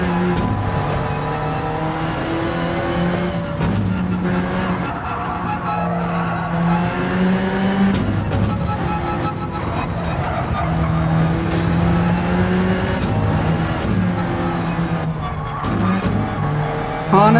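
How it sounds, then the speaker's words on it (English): Alfa Romeo 4C GT3 race car lapping in Gran Turismo 7 during a six-hour Nürburgring 24h endurance race, a loud steady engine drone with shifting pitch as it accelerates and downshifts, tires squealing through corners, with no voices. "This is the Alfa Romeo 4C GT3 car."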